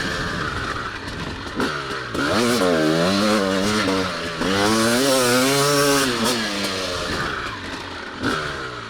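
A TM 300 two-stroke dirt bike engine rings out nearby, its revs rising and falling in sweeping waves as the rider opens and closes the throttle, then settles back to a lower burble.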